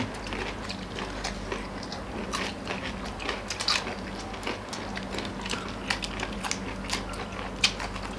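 Crunchy squid dressed with spicy fermented fish sauce being bitten and chewed close up, a steady run of crisp, wet crunches with sharper snaps over a low background hum.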